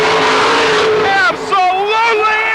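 A supercharged 466 cubic inch Chevy mud racing car running on alcohol, with a two-speed Powerglide transmission, roars at full throttle with a loud, sustained engine note that shifts in pitch, while an announcer talks over it.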